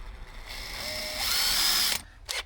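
A power drill whines steadily, rising as the bit bites into metal, then stops abruptly before a short second burst.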